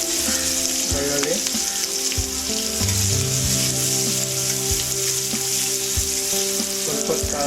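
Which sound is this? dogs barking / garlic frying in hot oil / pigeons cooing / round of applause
garlic frying in hot oil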